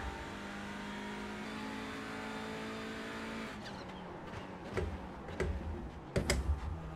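A touring car engine in the iRacing sim holds a steady drone, then revs in sharp, choppy bursts as the throttle is jabbed on and off, with keyboard-like clicks mixed in.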